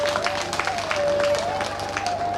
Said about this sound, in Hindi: आइए एक बार इनके लिए ताली बजा दो।